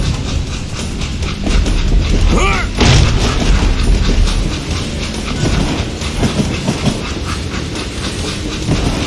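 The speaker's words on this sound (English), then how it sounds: "It was then that Jesse detached the express car from the rest of the damn train." An express car rolls and clanks loose from a moving train in the Western video game Call of Juarez Gunslinger, with a continuous loud rumble, rhythmic wheel clatter and a sharp metallic screech partway through.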